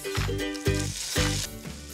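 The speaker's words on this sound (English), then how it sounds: "And then I'm gonna add my tomatoes." Roma tomatoes go into a pan of frying onion and garlic, giving a loud, close sizzle that bursts up several times in quick succession as they land in the hot oil.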